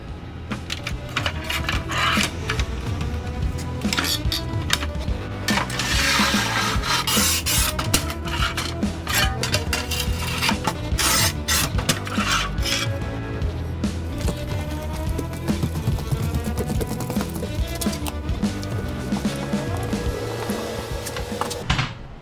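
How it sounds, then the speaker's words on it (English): A manual tile cutter scores and snaps tiles for a modern shower pan, giving a steady, close, loud grinding scrape that goes on with only brief breaks, with no talking. "Let's go snap these remaining 4 tiles."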